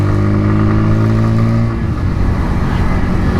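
A Bajaj Pulsar N150 motorcycle being ridden, its engine droning loudly and steadily up close before the note drops partway through and settles into a rougher, lower hum with road rumble.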